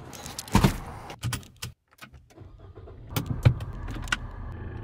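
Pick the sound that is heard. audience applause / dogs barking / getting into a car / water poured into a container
getting into a car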